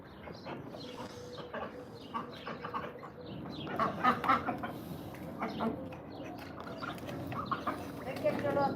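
A pet chicken named Nugget clucks in short, soft bursts close by, scattered through the scene beneath steady ongoing conversation and household noise.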